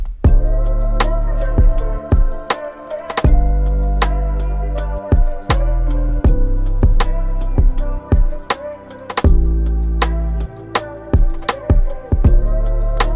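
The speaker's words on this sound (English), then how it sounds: "Full beat sounds like this." Produced music beat with sharp, punchy percussion hits over deep bass and sustained synth notes, playing in a steady rhythm at moderate volume.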